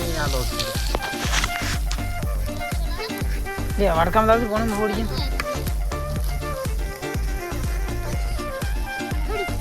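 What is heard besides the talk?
tempering puffed rice, sizzling in hot oil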